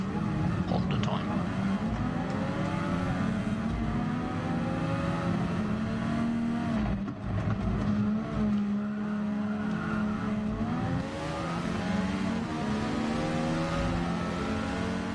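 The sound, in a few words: F1500 race car engine revving in a racing video game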